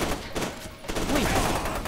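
Bursts of gunfire in FEAR 2: Project Origin rattle loudly and close, a short pause breaking the shooting before more dense fire continues.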